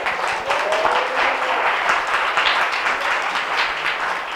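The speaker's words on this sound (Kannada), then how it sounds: "ಒಂದು ಚಪ್ಪಾಳೆ ಹೊಡೀರಿ" A church congregation at a Sunday service claps together, a steady, dense wash of many hands that continues evenly from start to finish without talk.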